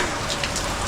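Steady rain falling in Thailand, a dense continuous hiss of drops on surfaces with no gaps, close and fairly loud throughout.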